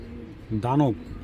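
A racing pigeon of the Janssen line, a large male, gives a single rolling coo of about half a second. It sounds close and clear over a faint background murmur.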